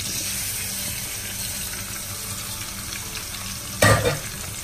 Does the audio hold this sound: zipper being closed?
no